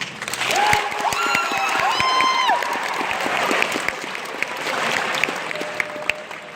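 Comedy crowd applauds in a fairly thick, steady patter, with a few whoops and a whistle-like cheer rising over the clapping early on, then the applause carrying on at an even level.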